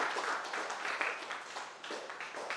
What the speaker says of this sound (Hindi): तो हम चाहेंगे कि एक बार इनके लिए आप सब जोरदार ताली।